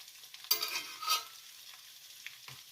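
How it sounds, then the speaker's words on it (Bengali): Potatoes frying in a pan with a little turmeric powder for a Bengali potato and spinach dish, a soft sizzle broken by a couple of stirring scrapes and clatters, heard close with no talk. "আলুগুলো দিয়ে আমি ভেজে নেব"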